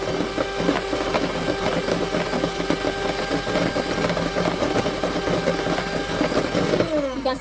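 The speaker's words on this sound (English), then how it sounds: "just to dip your mixer inside it, and you start. So you keep whipping until your whipped cream doubles its size" An electric hand mixer whipping cream in a bowl for homemade ice cream, a loud, continuous whirring drone that holds steady throughout at close range.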